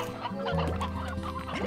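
Stony hens in the Slime Rancher video game cluck in a quick, close series of short game-sound calls, heard alone without talk.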